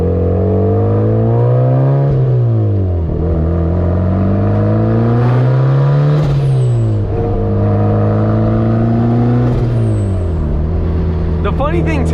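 A built turbocharged Mazda Miata engine making 400 horsepower roars through its exhaust on the street. It revs up and falls back in several long, loud sweeps with crackles between pulls.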